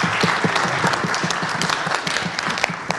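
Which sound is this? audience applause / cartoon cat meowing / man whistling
audience applause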